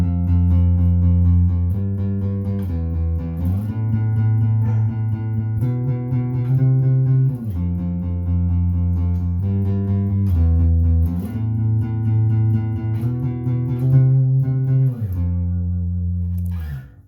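Harley Benton JJ-55 electric guitar picked through a small amp rig, a steady run of sustained notes and chords changing every second or two, loud and alone throughout.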